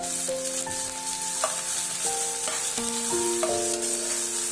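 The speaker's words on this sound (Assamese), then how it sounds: "এইখিনি দি ভালদৰে লৰাই দিম।" Mixed vegetables with tomato sizzle steadily in a pan for a mixed veg curry while a utensil stirs them, giving intermittent scraping knocks over the frying hiss, close and moderately loud with no talk.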